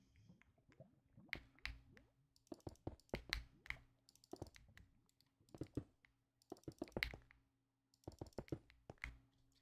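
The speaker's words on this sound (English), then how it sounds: "I like how your keyboard sounds." Clicky computer keyboard being typed on in bursts of rapid keystrokes separated by short pauses, close and fairly quiet, with a low steady hum underneath and no talking.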